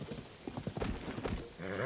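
Horse hooves clip-clop in a quick uneven rhythm close by in Zelda: Tears of the Kingdom, followed by a brief whinny-like sound at the end, loud and without speech.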